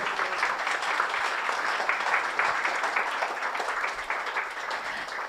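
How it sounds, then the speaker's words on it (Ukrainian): A roomful of people applauds an award winner at the 2022 Yuri Shevelov Prize ceremony, a steady, moderately loud crackle of many hands clapping without pause. "Я впевнена, що Маркіян заслуговує на ці оплески"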